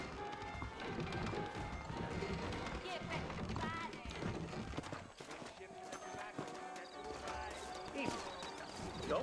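Clip-clop of horse hooves over a busy soundscape with music and talking in the video game Red Dead Redemption on PC, steady throughout and dipping briefly midway.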